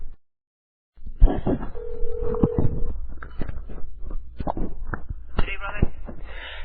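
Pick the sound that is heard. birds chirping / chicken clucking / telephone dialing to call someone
telephone dialing to call someone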